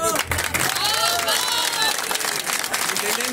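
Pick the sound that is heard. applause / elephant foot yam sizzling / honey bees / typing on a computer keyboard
applause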